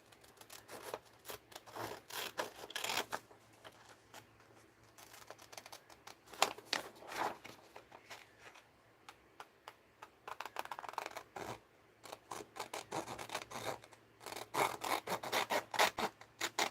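Scissors cut through paper while a tab is trimmed off a model house, giving many short, scratchy snips in uneven bursts with brief pauses between them. The sound is close and soft, and nobody speaks.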